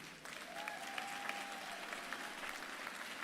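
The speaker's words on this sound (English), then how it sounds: "let us take a moment to applaud and recognize all the alumni who are gathered here today" Commencement audience at Xavier University of Louisiana applauding the gathered alumni, a steady spread of clapping across a large hall, fairly soft and distant, with a faint tone drifting through.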